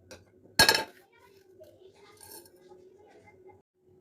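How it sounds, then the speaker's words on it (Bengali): A metal pan is set down on a stove before fennel seeds are roasted for a pea kachori filling, giving one sharp clank followed by faint low kitchen rumble. "এখানে আমি একটা প্যান বসিয়েছি"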